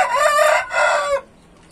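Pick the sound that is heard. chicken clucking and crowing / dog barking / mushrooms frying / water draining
chicken clucking and crowing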